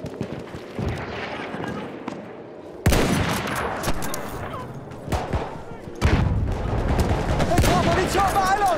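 Machine gun fire in Battlefield 1, loud rapid bursts and crackling shots in several sharp bouts amid battle noise and booms, with shouted voices in the mix.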